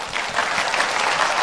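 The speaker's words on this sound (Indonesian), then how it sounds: "Tepuk Tuhan kita." A congregation at a church worship service claps together, a dense, even burst of applause that stays steady for a moment with no voices over it.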